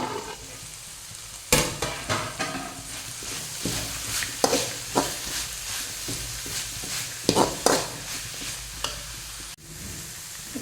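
A spatula stirs and scrapes vermicelli upma in a pan over low heat, with faint sizzling underneath. Sharp clinks and scrapes come irregularly, and one heavy knock stands out near the start.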